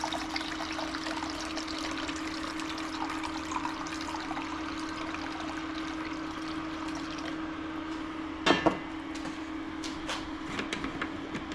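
Cold water is poured to top up a container in a workshop, a steady trickling flow under a constant background hum, with a brief clatter near the end.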